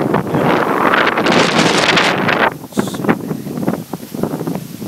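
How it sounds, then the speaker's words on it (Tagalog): Strong wind roars and buffets loudly against the microphone beside rice fields in Leganes, Iloilo, then eases into gusty rustling and flapping. "ang lakas ng hangin"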